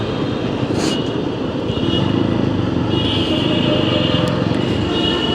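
Auto-rickshaws sit packed in a traffic jam in Konabari, and their engines and road noise blend into a dense, constant rumble. A few faint horn-like tones poke through the roar.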